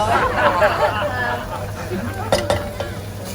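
Butter or bacon fat melting and sizzling in a pan during pasta sauce prep, a low steady fry under close chatter and voices, with a couple of sharp clinks of utensils near the end.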